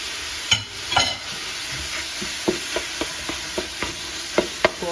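Ground pork and onion frying together in a pan, a steady hissing sizzle punctuated by a regular series of spatula taps and scrapes, close up, with no talking.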